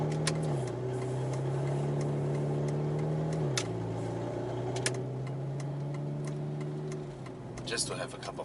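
An Aston Martin with a blown exhaust at the manifold idles and blips with a raspy, droning engine note that steps down in pitch twice, with faint ticking over the steady hum.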